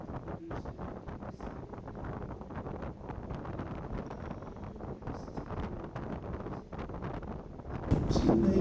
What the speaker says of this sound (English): the wind coming off the ice, really made for a chilly ride